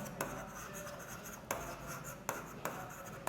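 Pen strokes on paper while noting an account entry, with soft scratchy writing and a few sharp taps at regular intervals. The sound is close but quiet, with no voices.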